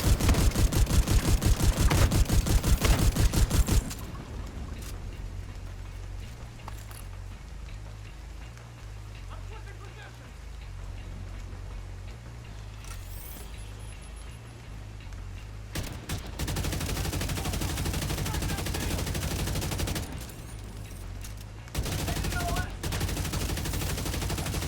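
Gunfire in the video game The Division 2: a loud burst of rapid shots opens, then scattered crackling fire and a steady low rumble, with louder bursts returning near the end.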